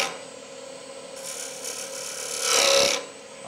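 Turning chisel takes a short, forceful pilot cut into spinning wood on a lathe, a scraping rasp that swells to a louder burst near the end over a steady machine hum.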